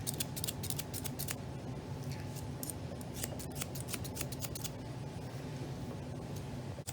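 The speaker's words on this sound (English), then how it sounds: "we go back here up his neck to his head, and we're gonna trim over here." Scissors trimming the hair on an English Springer Spaniel's neck and head, with rapid, crisp snips in uneven clusters over a steady low background hum.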